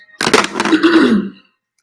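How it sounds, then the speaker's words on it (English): A single rough, gravelly throat clearing, close and fairly loud, lasting about a second before silence. "I did not want to clear my throat in your ear."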